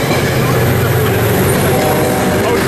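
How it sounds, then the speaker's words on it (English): A deadhead train runs through Carlsbad Village station without stopping. It makes a loud, steady rumble and roar close by for the whole clip, with a voice talking over it. "that is a deadhead train"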